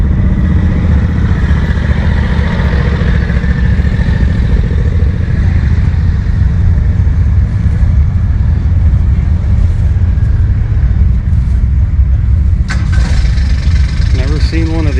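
Vintage Allis farm tractors drive past at a machinery show, their engines a steady, close, loud rumble throughout.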